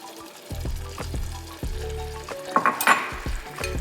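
Red onion sizzles in a pan with tomato sauce, melted cream cheese and jerk sauce for jerk beef nachos, with steady frying hiss, repeated stirring strokes and a few utensil clinks near the end.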